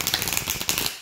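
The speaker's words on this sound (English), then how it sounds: "I'm just like not getting a good shuffle" A deck of tarot cards is shuffled by hand in a quick burst of rapid, crisp riffling flutters, close and fairly loud, lasting about a second with no talking.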